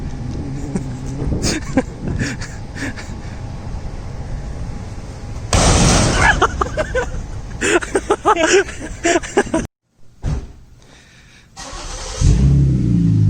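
A car engine with a stock exhaust revs hard in loud bursts, with a sharp pop and a brief cutout before it settles back into a rumbling idle.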